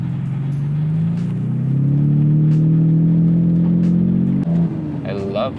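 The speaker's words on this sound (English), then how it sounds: "I love the sound of it too. Yeah, the DD exhaust, man, is Yeah. killing it." A Nissan Skyline GT-R R32 with a DD exhaust drones at a steady, rising rev for several seconds, then drops off sharply, with voices talking over the engine.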